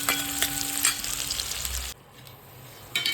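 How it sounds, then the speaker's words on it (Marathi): Finely chopped onion sizzles loudly in a pan for a pea and potato curry, a steady crackling hiss that drops noticeably quieter partway through before a brief stir scrape near the end. "त्याच्यामध्ये आपण आता बारीक कटिंग केलेला कांदा टाकून घेऊया. कांदा आता आपण लालसर होऊन घेऊया"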